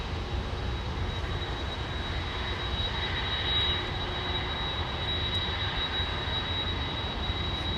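A Swiss International Airlines airliner at London Heathrow Airport produces a steady, distant jet engine roar with a thin whine riding on top, swelling slightly midway before settling back.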